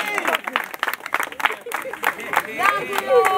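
Scattered applause and clapping from an outdoor political campaign crowd, uneven claps and crowd noise rising and falling under a loud amplified voice that dominates throughout.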